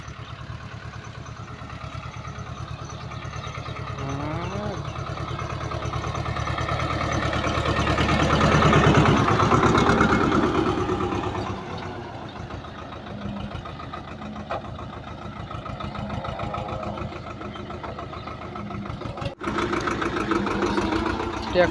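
A tractor engine runs steadily in a peanut field, a mid-pitched idling rumble that swells louder for a few seconds before settling back, with faint voices in the background.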